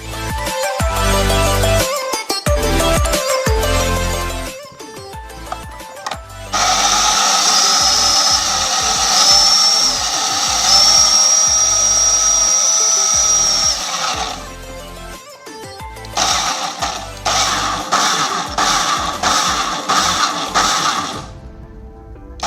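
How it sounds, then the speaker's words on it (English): An electric blender purees chopped turmeric chunks for a homemade hair treatment. It whirs in short pulsed bursts, then runs in a long, steady loud grind, then pulses again and stops. "We're going to take the chunks that we cut up, and we are going to blend them, puree them, chop them"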